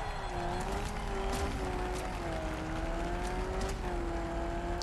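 Race car engine in the Street Outlaws 2 racing game, a steady droning tone that rises and dips slightly as the car holds speed, loud and continuous with no talk over it.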